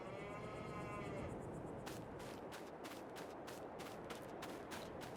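Cows low on a cattle farm in Farming Simulator 22, a long moo at the start followed by a regular series of sharp clicks or ticks over a steady farmyard background, with no talk.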